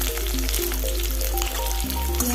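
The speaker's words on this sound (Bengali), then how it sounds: "রসুনটাকে তেলের উপরে দিয়ে দিচ্ছি। এরপর পেঁয়াজটা দিয়ে দিচ্ছি।" Garlic and onion fry in hot oil in a pan for chilli pasta, giving a steady, close crackling sizzle with small pops and clinks, no voices over it.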